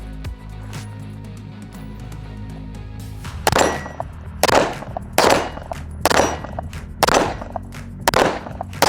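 Gunfire from a handgun: six sharp, loud shots at a slow, uneven pace, with metallic clanks and a low hum in the quiet lead-in beforehand.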